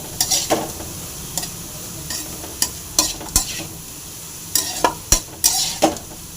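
Carrot and green peas fry in a pan with a steady sizzle while a utensil stirs and scrapes in irregular clattering strokes, close and fairly loud.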